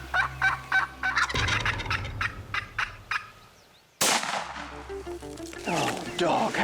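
A wild turkey gobbles in a field, several sharp rattling gobbles in quick bursts, fairly close and loud, with a pause and then another stretch of calling over a low hum.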